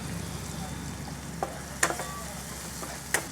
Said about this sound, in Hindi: ये हमारा एक चॉप किया हुआ टमाटर डाल देंगे, थोड़ा थोड़ा चला देंगे।